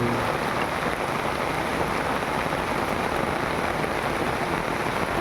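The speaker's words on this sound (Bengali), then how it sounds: "কি বৃষ্টি হচ্ছে" Steady rain pours down on a flowering dragon fruit tree, a dense, even hiss that holds at the same loud level from start to finish with no voices.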